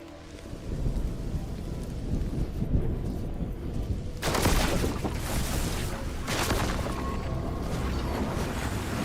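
A thunderstorm rumbles in the fantasy game Mind over Magic, with steady rain noise and a loud crash of thunder partway through, followed by rolling rumbles.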